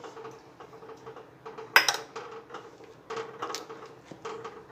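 Spoon clinking and scraping inside a pot of milk while ingredients are stirred in for Gujarati doodhpak, a series of light irregular taps and knocks with one sharper clatter partway through.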